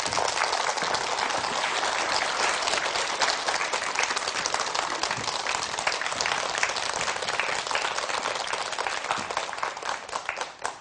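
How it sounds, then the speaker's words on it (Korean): A lecture audience claps steadily as a speaker is welcomed onstage for a televised special talk, a dense, even wash of applause that holds for about ten seconds before tapering slightly at the end. "김종삼 대표님을 큰 박수로 모시겠습니다."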